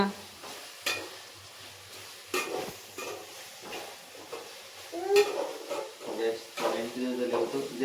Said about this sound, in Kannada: ಈರುಳ್ಳಿ ಸೀರೋಗಲ್ಲ, ಫ್ರೈ ಮಾಡು ಸರಿ ಹೋಯ್ತದ